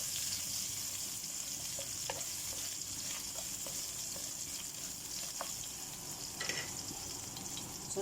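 Ginger sizzling steadily in hot oil in a pan, a continuous close hiss with a few soft clicks and stirring scrapes, no voices.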